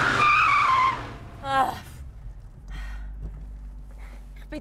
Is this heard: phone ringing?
no